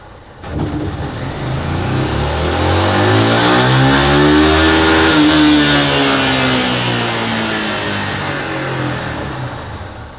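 A carbureted 150cc motorcycle with a modified cam accelerates in third gear, its engine note climbing steadily in pitch and loudness before easing off near the end, loud and close with no talking.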